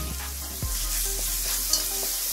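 Ginger and garlic fry in hot oil with tomato paste for a pappad curry, giving a continuous close sizzle with a few soft stirring scrapes.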